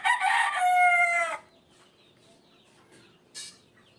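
A rooster at a gamefowl breeding farm gives one loud, close crow that lasts over a second and then breaks off, followed by quiet with a faint rustle and a short distant call.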